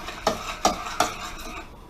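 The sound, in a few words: stirring thickening berry tart filling in a pot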